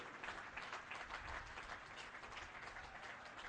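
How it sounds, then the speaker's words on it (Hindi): BJP party workers applauding Prime Minister Modi at the new party office on Deen Dayal Upadhyay Marg, New Delhi, a dense continuous crowd clapping heard faintly and evenly. "सारे कार्यकर्ता मिलकर के जोरदार तालियों से आपका अभिनंदन करें।"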